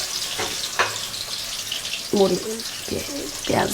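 Garlic goes into hot oil for a dried-fish curry with winter vegetables, giving a steady, close hiss and sizzle throughout, with brief bits of speech over it.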